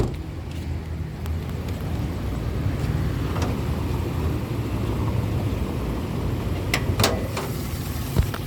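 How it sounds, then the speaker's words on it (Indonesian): A 1994 Suzuki Vitara JLX 4x4 engine idles with a steady, smooth, fairly loud rumble and no talk, with a few light clicks near the end. "Untuk mesin seperti ini teman-teman, suaranya masih halus nih"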